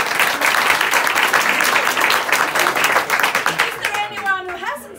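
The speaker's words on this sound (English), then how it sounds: "Please clap your hands." An audience at an improvised theater show claps their hands, a dense, even burst of applause that fades out near the end as a voice starts speaking.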